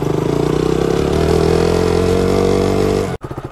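A Kawasaki H2R motorcycle accelerates hard, its engine note climbing in a loud, close, continuous roar before it cuts off abruptly near the end and a short choppy burst follows.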